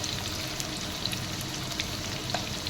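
Onions fry in a pan for a chicken curry, giving a loud, steady sizzle with faint scrapes of a spoon stirring, close up and without talk.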